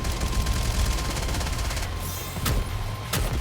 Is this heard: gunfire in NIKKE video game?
yes